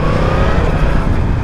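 A Yamaha MT-10 SP's 180-horsepower four-cylinder engine, derived from the R1 and running in its full-power mode, holds a loud, steady, close-up drone with a strong rumbling tone and no pauses.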